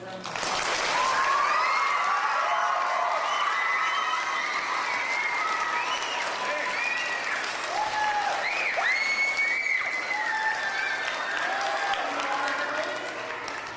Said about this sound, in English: Let's give Steffan and Kitsap County Solid Waste a real nice high round of applause.